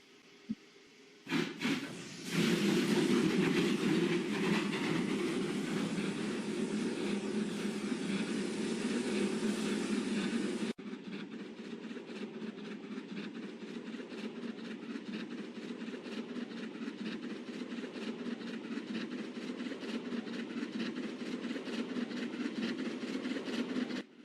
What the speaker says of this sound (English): So this is the train.